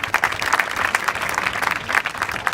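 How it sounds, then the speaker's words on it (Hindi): A crowd at a Radiant Foundation event gives a hearty round of applause for a young participant, a thick, steady clatter of many hands held at full strength throughout, with no speech. "रमाकांत के लिए जोरदार ताली बजाओ।"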